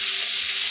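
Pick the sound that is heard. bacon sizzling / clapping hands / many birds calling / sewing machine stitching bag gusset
bacon sizzling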